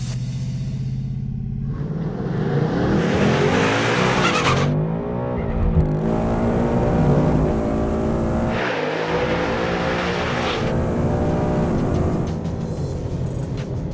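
A 2019 Ford Mustang with a 10-speed automatic accelerates hard down a drag strip, its loud engine climbing through several rapid gear changes and fading slightly toward the end.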